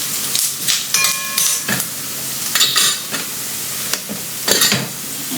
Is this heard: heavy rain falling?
no